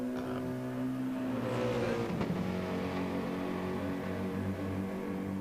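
A race car engine drones steadily with harmonic tones that rise and fall, a throaty revving motor running continuously at close range.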